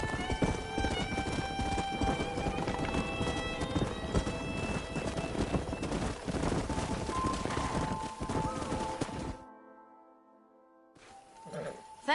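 Horses trot with steady clip-clopping hooves and a neigh in the Western video game Red Dead Redemption, close and clear over a continuous music score; the hoofbeats drop out near the end.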